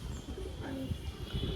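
A Laladum pigeon, a breed with deep red wings over yellow, gives a soft low coo partway through, against a steady background hiss with faint voices.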